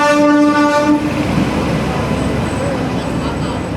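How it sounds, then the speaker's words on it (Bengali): A long-delayed passenger train pulls into a station platform late at night on the down line; a loud horn sounds for about a second, then a rumbling, clattering roll continues close by. "আজকে শনিবার রাত 1টা বাজে ট্রেনটা ডাউনে ঢুকছে, মানে প্রচুর লেট ট্রেন।"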